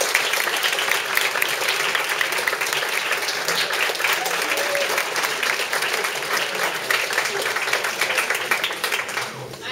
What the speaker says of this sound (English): everyone give Josh a round of applause